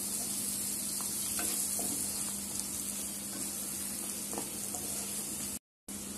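Drumsticks sautéing in a pan for varan, a steady frying hiss with soft stirring scrapes and a steady low hum, cut by a brief dropout near the end.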